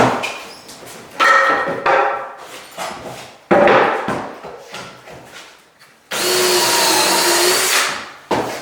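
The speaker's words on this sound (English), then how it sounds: "Got all the holes drilled now" Power drill boring holes in wooden cabinet pieces in a workshop, with several short bursts of drilling and handling noise, then a long steady whirring run near the end.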